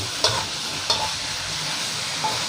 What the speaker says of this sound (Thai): ผัดจนให้หมูมันเซ็ตตัวนะครับ